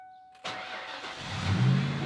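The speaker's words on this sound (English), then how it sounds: "let you guys hear how awesome this engine sounds." A Mustang GT engine cranks and fires up abruptly, settling into a loud, deep rumbling idle that swells slightly.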